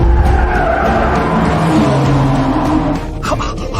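A rally car drifts with its tires skidding in a long, loud, continuous scrub of rubber on the road under steady engine roar. The noise eases slightly toward the end.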